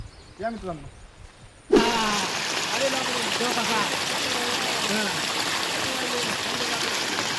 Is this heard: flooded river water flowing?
yes